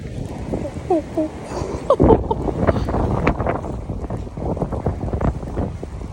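Strong wind buffets the microphone in gusty, rumbling bursts while a person talks intermittently over the blustery roar.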